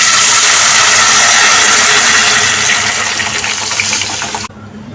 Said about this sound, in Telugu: పప్పుచారు పోసేసుకున్నాము